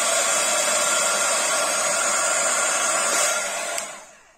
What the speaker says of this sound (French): grâce au pistolet chauffant.